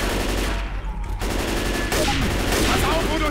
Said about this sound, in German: Snipergewehr ist lustig